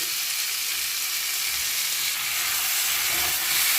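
Soaked potatoes hit a hot frying pan and sizzle in a loud, steady hiss that swells slightly toward the end, with no talking.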